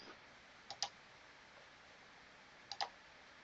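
Two quick double-clicks of a computer mouse, spaced about two seconds apart, crisp and close against a quiet background hiss.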